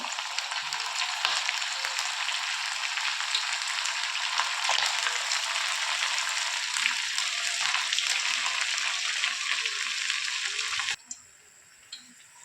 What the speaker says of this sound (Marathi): आता बाकीचे सर्व वडे अशाच प्रकारे आपण तळून घेऊया